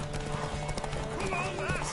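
Galloping horse in The Witcher 3, rapid hoofbeats pounding under in-game music, then a loud neigh near the end.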